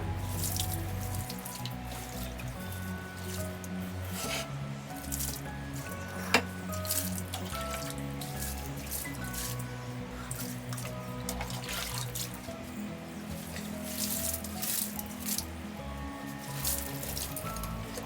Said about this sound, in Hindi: सारे प्लांट्स को एक एक करके मैंने पहले धोया